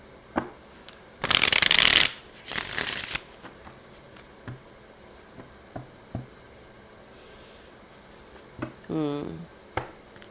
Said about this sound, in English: Let's pull some more cards here.